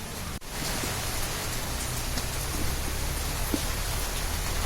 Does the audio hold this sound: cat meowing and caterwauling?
no